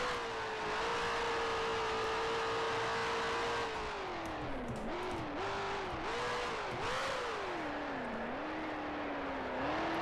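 A 1965-era Formula 1 car's engine in the Grand Prix Legends racing game at Spa, holding a loud steady note, then dropping and blipping through downshifts under braking into La Source, with the revs wavering until the end.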